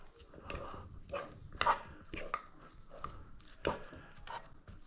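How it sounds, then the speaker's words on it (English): Ripe bananas are mashed by hand with a fork for banana bread, giving soft, irregular squishing taps and scrapes against the bowl, close and fairly quiet. "I'll take a fork, and then I'm going to smush all of these bananas up"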